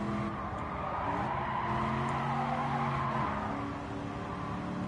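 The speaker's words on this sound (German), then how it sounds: "einfach nur driften hier" A car drifts in Gran Turismo 7, its engine droning steadily under a continuous tire squeal that holds for several seconds without a break.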